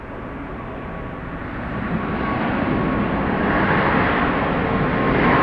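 A Boeing 737 MAX 8 coming in to land at Dallas Love Field, a broad, steady jet roar that swells gradually louder, with no voices.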